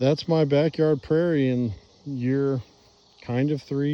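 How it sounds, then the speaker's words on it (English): Insects drone and chirr steadily in a young, chemical-free backyard prairie of native plants. The sound sits under a man's close, continuous talking. "Pollinators are loving it. You can hear them buzzing around right now."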